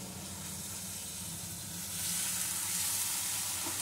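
Grated garlic and chili paste masala sizzling in a hot pan for a stuffed pointed gourd dolma, a steady close hiss that swells louder halfway through.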